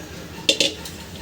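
A dosa batter bowl clanks against other dishes in a home kitchen: two quick metallic knocks close together, then a faint third clink, over quiet room tone.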